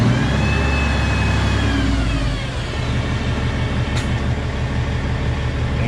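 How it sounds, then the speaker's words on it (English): A coal truck's engine revs steadily with a loud, close, continuous rumble while the power take-off raises the dump bed, holding a high, even drone throughout. "Bed raises, give it a little fuel to help it out."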